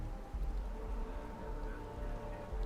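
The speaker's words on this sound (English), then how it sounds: "Never mind, I think it's raining." Steady rain falls in the video game Starfield, a dense, even hiss with scattered droplet ticks that stays constant and fairly quiet throughout, with no voices.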